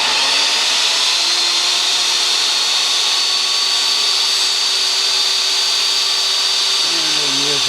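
A 7-1/4 inch steel-cutting saw slices through a heavy housing, a loud, steady, high-pitched grinding whine with a faint motor tone beneath it and brief voices near the end.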